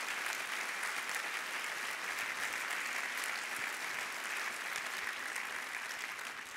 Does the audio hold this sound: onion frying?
no